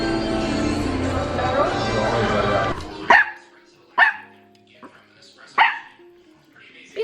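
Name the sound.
dog barking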